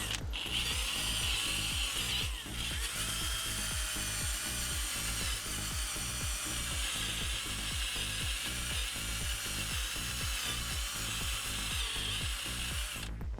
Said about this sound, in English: just get the wire brush